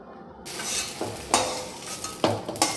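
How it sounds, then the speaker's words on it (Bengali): Vegetables, including taro, lightly frying in oil in a pan, a continuous sizzle broken by several sharp scraping stirs and clinks of the utensil against the pan. "হালকা ভাজছি সব কিছুই"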